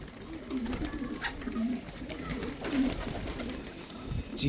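Pigeons in a loft coo close by in repeated low, throaty rolls, with a faint voice and rustling in the background.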